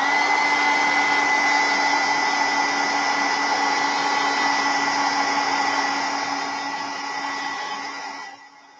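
A hair dryer blows steadily on acrylic paint, loud and close, with an even whooshing roar and a constant hum that fades slightly before cutting off at the end.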